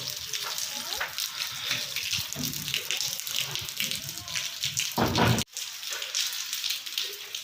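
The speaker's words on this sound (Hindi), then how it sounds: "तकरीबन 10 बज चुके हैं और बारिश जो है वो हो रही है।" Rain falls on a rainy day as a steady watery rush and hiss, with people talking over it. A brief louder gush comes near the end.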